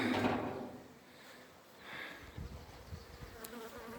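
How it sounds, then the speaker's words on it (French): Bees buzz faintly as an opened beehive super is checked during spring honey extraction, a soft, wavering hum that swells near and then fades, with light handling knocks of the hive box. "il y a encore des abeilles dedans"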